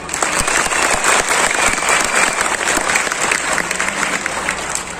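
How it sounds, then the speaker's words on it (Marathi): Men in an audience at a public talk in Latur applaud in a steady, dense burst of clapping that holds throughout, with faint crowd murmur beneath. "आता फक्त माणसांनी टाळ्या वाजवा"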